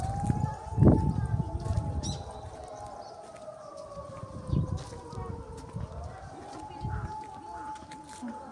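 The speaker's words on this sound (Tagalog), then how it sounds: "Ambulansya lang maingay din eh." Ambulance siren wailing along a street in Japan, a rising and falling tone drifting at moderate distance while people chat nearby and birds chirp.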